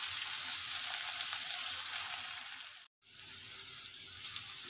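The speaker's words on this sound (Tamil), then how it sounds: "அந்த எண்ணெயிலேயே நல்லா வதங்கணும்." Ginger sautéing in oil in a pan for puli inji with gooseberry makes a constant faint sizzle and crackle, broken by one brief moment of silence, with no voices.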